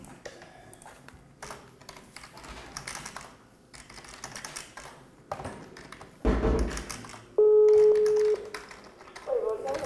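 A telephone number is keyed in, with a run of soft key taps and then dial tones and a steady ringing tone rising louder near the end, while a voice speaks quietly in the background.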